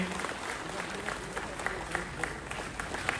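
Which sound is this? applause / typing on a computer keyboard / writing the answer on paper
applause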